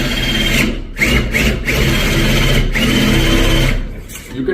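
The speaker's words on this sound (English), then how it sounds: "Now if you want to do a standard base plate, you can just drill it" A surgical power drill bores into bone to prepare for a Zimmer Biomet augmented shoulder baseplate, a loud close high whine that runs in several bursts with short stops and speed changes.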